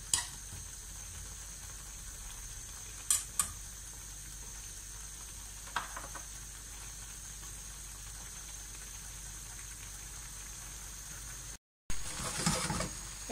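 Spaghetti with mussels cooking risotto-style in a pan over high heat, a steady quiet sizzle and simmer with occasional clinks of utensils, a brief cutout, then louder stirring at the end.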